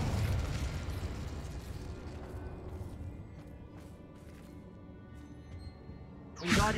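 The Confringo explosion spell in the video game Hogwarts Legacy produces a loud, rumbling blast that fades over several seconds into a softer mechanical hum, then a sharp burst near the end.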